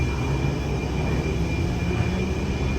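A London Underground train pulls away from the platform, a steady, dense rumble and hiss filling the whole moment at even loudness, with no voices heard.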